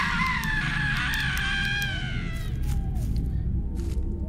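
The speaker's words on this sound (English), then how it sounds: "Is that the screams of, like, a missing person?" Distant screams of a missing person echo inside a church in the Silent Breath horror game, wavering high cries over a steady low rumbling ambience.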